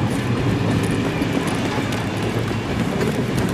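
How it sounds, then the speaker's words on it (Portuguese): A train in the Escape from Tarkov video game rolls close by, producing a loud, continuous rumble with faint rhythmic rattling and no voices. "Pega o trem! Pega o trem!"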